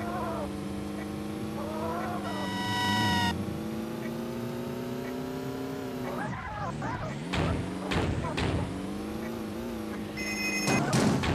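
In the video game Payback 2, a phone rings with a steady electronic tone that repeats in bursts over a looping game soundtrack, loud and close throughout.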